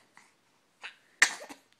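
A single short sneeze sounds close and fairly faint, preceded by a couple of small breathy sounds in an otherwise quiet room.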